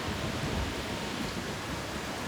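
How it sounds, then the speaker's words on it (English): Steady, dense rain falls in a video game, a continuous loud hiss with a low rumble beneath it. Wind may be mixed in, and no one speaks. "It's definitely raining harder as we go."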